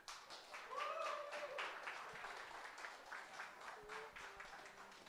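Audience applause at a French evening talk, steady dense clapping filling the room at moderate volume, with a brief voice passing over it early on.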